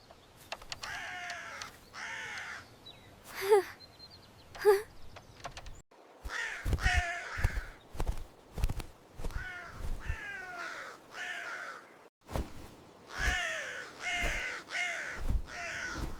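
A crow caws repeatedly in harsh, nasal bursts, several calls in a row, close and clear, with a couple of faint thumps in between.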